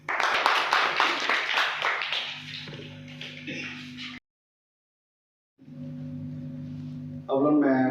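A gathering applauds a pastor coming forward at a prayer service with a burst of dense clapping for about four seconds. It cuts to silence, then soft sustained musical tones follow.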